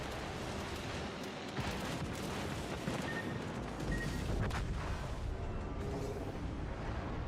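Naval ship gunfire in the Azur Lane video game, a dense, continuous rumble of booming shots and explosions layered together, loud and sustained throughout with no clear pauses.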